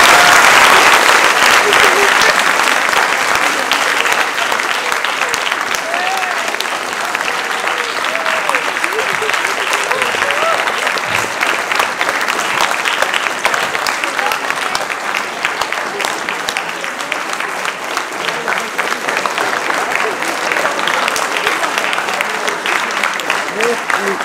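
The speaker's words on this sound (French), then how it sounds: "je crois que vous pouvez déjà l'applaudir" An audience gathered for a talk by a former deportee gives long, sustained applause, a loud, dense roar of clapping that carries on for over twenty seconds with only slight dips.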